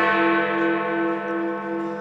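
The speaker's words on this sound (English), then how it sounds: "8 o'clock and Big Ben's final chimes." Big Ben, the great bell of the London clock tower, tolls a chime at 8 o'clock: one sustained, resonant strike rings out with a rich hum of overtones that decays slowly across the whole stretch, loud and alone.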